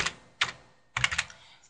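Computer keyboard typing a page title, three short clusters of quick plastic key clicks, close and crisp, separated by brief pauses.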